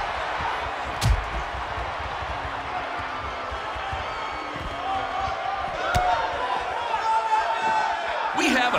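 Arena crowd noise from WWE 2K19 wrestling game, a steady roar of cheering with a few sharp slams, continuous throughout under a commentator's voice.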